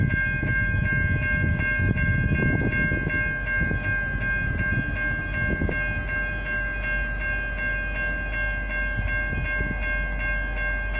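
V/Line diesel passenger train N451 rumbles past close by at South Geelong, a steady loud engine drone with high tonal whine from its Leslie RS5T and Nathan P5 horns and occasional metallic clanks throughout.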